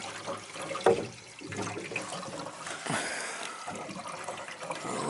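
Water drains out of a newly repaired bathtub set on mortar, making a steady gurgling, rushing flow with a few louder splashy surges close by.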